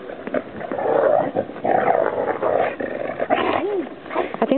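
Dogs playing outdoors in deep snow during an evening blizzard, with loud close growls, snarls and excited yelps coming in uneven bursts, like rough play.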